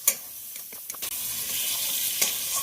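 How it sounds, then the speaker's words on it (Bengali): Water from rinsing the spice bowl goes into a pan of potatoes frying in spice paste for a potato and aubergine curry. A few spatula clacks lead into a loud, swelling hiss as the liquid hits the hot pan. "জল দিয়ে দিলাম, মশলা বাটি ধোয়া জল।"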